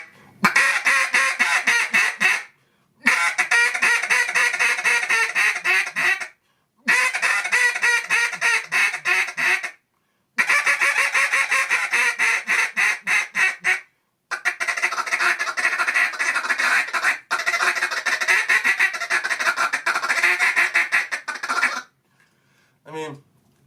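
A duck call blown in a run of raspy, repeated quacking bursts, loud and close, each series broken by short pauses, with no talking over it.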